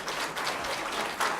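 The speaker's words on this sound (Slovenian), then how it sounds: "prosim še za en aplavz" Audience applause at a diet and weight-loss presentation, a steady, dense wash of clapping from a crowd filling the short stretch with a slight swell near the end.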